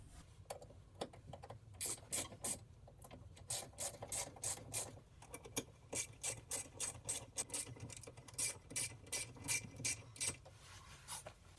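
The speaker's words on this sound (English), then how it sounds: "I'm just going to line this up and bolt it down here" A ratchet wrench clicks in rapid repeated bursts while bolting down a swivel seat base in a Dodge ProMaster van, close and fairly loud, the rhythmic ratcheting stretching across most of the stretch with brief pauses between strokes.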